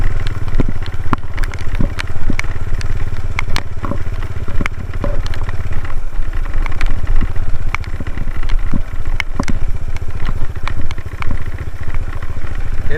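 A Suzuki Satria FU motorcycle rides off-road along an overgrown, long-unused truck track through brush after crossing deep water, its engine running steadily and close throughout with rattling clatter over the rough ground and no talk.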